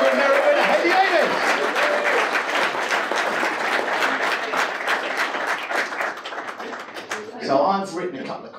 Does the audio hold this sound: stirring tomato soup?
no